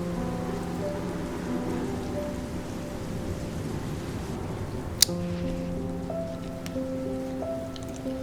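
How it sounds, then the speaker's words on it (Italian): Steady rain pours down alone with a dense, constant hiss and a sharp crack around the midpoint, while low tonal music runs underneath throughout. "ฝนตกอ่ะ"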